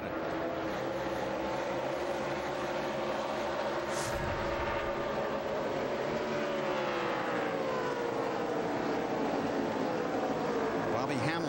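NASCAR race cars at Texas accelerate on a green-flag restart, engines roaring and sweeping past in rising and falling pitches, with a commentator talking over the pack.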